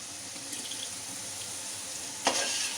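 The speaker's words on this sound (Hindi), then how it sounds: "और अब हम इसके अंदर अपना दही डाल के इसको 5 मिनट तक पकाएंगे" Biryani masala with yogurt simmering in a pan for mutton tikka biryani, a quiet steady sizzle and bubbling with a brief louder burst near the end.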